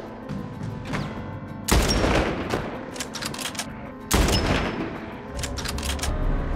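Sniper gunfire in The Last of Us, two loud sharp cracks about two and a half seconds apart, each followed by a rumbling tail over a dense game soundscape.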